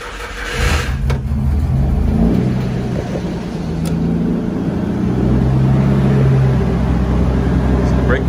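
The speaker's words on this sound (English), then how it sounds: "Let's go ahead and crank her up now." A Nissan Hardbody truck engine runs and revs up in a steady, loud, close drone that swells midway and holds high.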